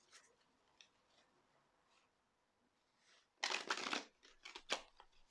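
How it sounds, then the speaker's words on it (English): A tarot card deck being shuffled close up, faint light ticks at first, then a burst of loud riffling flutters and a few more shuffle bursts, no talking. "Let me just give this deck 1, 2 shuffles."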